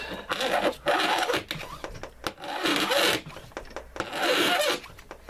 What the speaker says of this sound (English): and file that sucker